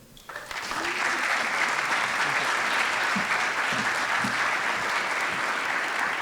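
A conference audience breaks into applause to welcome a speaker, starting after a brief quiet moment and rising to a full, sustained clapping that stays loud and even to the end.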